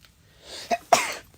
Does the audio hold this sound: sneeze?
yes